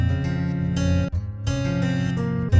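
An FL Studio melody slowed by the Gross Beat half speed preset, with dense, dragged-down synth chords pulsing in choppy, stretched bursts and short dips, loud and without any voice.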